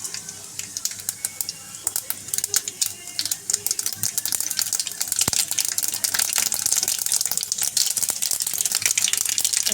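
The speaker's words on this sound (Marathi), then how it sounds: "तेल तापलं आहे, त्याच्यामध्ये आता मी राई टाकते" Mustard seeds and asafoetida fry in hot oil, giving a run of sharp crackles and seed pops that thickens into busy, continuous spattering and sizzling.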